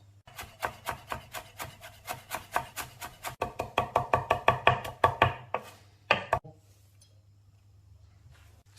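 Knife finely chopping fresh herbs on a board, a steady close run of crisp taps that speeds up and grows louder, then stops after a last couple of cuts, leaving quiet room tone.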